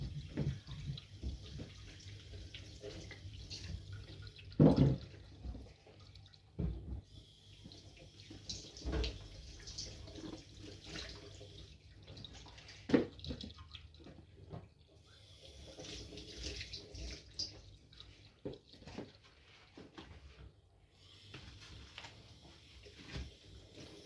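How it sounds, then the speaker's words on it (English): Tap water running into a kitchen sink while hands are washed and vegetables rinsed, a steady close splashing with irregular clatters and gushes, no talking. "I would also like to rinse my vegetables to ensure that they are clean"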